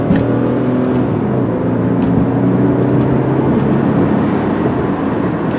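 A 1999 Mercury Sable with a V6 engine accelerates smoothly through its gears, a sustained, even engine hum and road roar heard from inside the car, loud and continuous with no talking.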